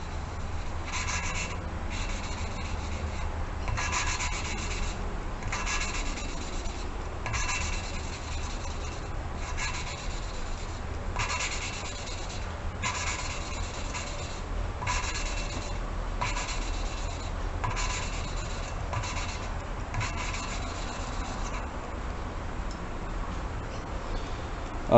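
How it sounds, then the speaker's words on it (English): Valve being lapped by hand with a lapping tool and fine paste, a steady back-and-forth gritty rubbing in regular strokes, close and continuous. "that's a really fine paste, and it's definitely cutting that valve"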